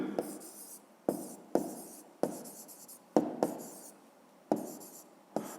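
Pen or chalk writing out a physics solution on a surface, with repeated scratchy strokes, each starting with a sharp tap and trailing off, about eight in a steady rhythm, close and quiet, with no talking.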